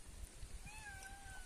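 A female cat gives a single faint, drawn-out meow over low background rumble and a few soft thumps.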